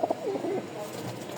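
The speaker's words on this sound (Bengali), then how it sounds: "সব পাগলা ডাকের কবুতর" Gola Photka pigeons in breeding mood coo softly nearby, a short burst of throaty rolling calls followed by quieter murmurs in a loft.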